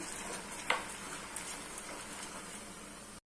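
Liquid with cardamom powder bubbling and simmering in a pan while making rice flakes modak, a soft continuous hiss and crackle, close and quiet, with one brief clink near the start.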